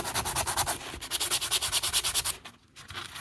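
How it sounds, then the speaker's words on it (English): A foam sander rubs over a hand-carved wooden cardinal in fast, even back-and-forth strokes, close and scratchy, stopping briefly near the end before starting again. "I'm gonna start sanding this and use a foam sander"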